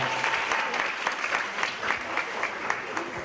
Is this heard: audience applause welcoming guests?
yes